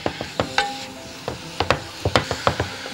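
Pasta fajita with meat being stir-fried in a pan, heard as irregular clacks and scrapes of a utensil against the pan over a soft sizzle, close and fairly brisk.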